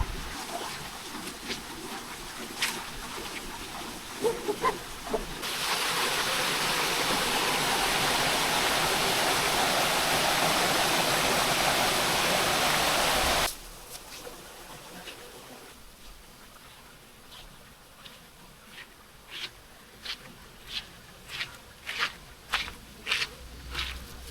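A stream of water flowing down from waterfalls in Albay rushes loudly as a steady broadband wash for several seconds, with quieter outdoor ambience and light knocks before and after.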